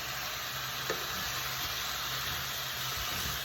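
Oxtail pieces frying and browning in a pot on a medium-low stove, a steady close sizzle with a soft hiss and no talking.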